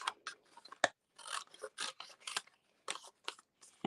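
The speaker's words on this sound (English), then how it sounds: "I'm going to use my tiny little cut and emboss. So I'm going to just make sure that I can cut some of this off." A tiny cut-and-emboss machine works through paper with a series of short, crisp scraping and crunching bursts separated by brief pauses, quiet and close by.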